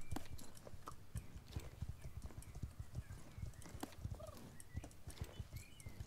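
Hooves of a horse in the online riding game Star Stable Online clip-clop in a steady, close walking rhythm, with soft ambient game sound beneath the repeated hoofbeats.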